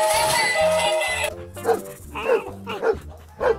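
A toy dog gives a run of short, tinny electronic barks in an uneven rhythm, close and fairly loud, following a burst of toy music.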